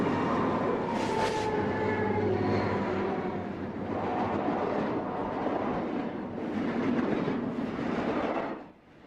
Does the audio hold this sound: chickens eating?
no